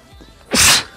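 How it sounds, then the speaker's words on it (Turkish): A single sharp, close sneeze bursts out loudly for a fraction of a second, with quiet room noise before it and no talking. "Ben hapşırıyorum ya."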